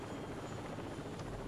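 Helicopter from the Rainbow Six Vegas video game, a steady whirring rotor drone held at an even level throughout with no talk over it.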